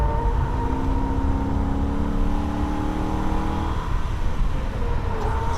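Holden VF Ute lapping the Nürburgring, its engine droning steadily under load with audible gear-change shifts in pitch, continuous and close as if heard from onboard.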